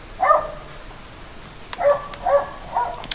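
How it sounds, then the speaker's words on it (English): A dog barks about four times, moderately near, in short separate woofs with gaps between them and a couple of faint clicks in the quiet background. "Now we got the dog barking, probably barking at me."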